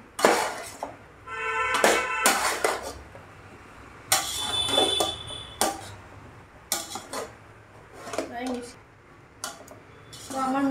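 Metal spatula scraping and clanking against a pan while vegetable fried rice is tossed and mixed, sharp irregular clinks and scrapes in bursts, close and fairly loud, with no talking.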